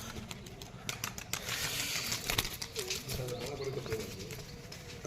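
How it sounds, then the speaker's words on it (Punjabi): A Badam sira pigeon cooing softly and intermittently against background noise, with a few faint chirps and some wing or handling sounds nearby. "ਦੇਖੋ ਜੀ ਬਦਾਮ ਸਿਰਾ ਕਬੂਤਰ ਆਪਣਾ"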